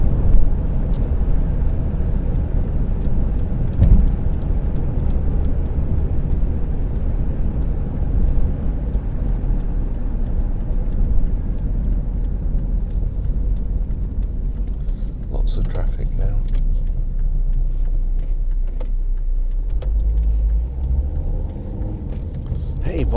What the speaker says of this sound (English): Volvo XC60, lovely car.